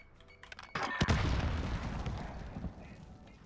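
A grenade going off in a multiplayer shooter game, a few sharp gunshot pops followed by a heavy boom that rumbles and decays over a couple of seconds.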